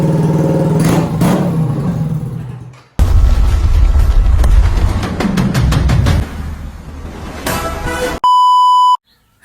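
A Yamaha MT15 motorcycle fitted with an Akrapovic exhaust revs loudly up close in repeated throttle bursts, with a sharp drop in between, then a steady electronic beep at the end.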